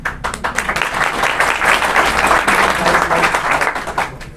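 A crowd gives loud, dense applause at a Bahujan Samaj Party political rally in Haryana. The clapping rolls on continuously and swells slightly in the middle.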